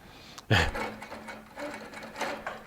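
Home sewing machine stitching handmade cording with a couching foot for quilting: a short run of fast mechanical stitching whir with a sharper clack near the start, close and alone with no talk.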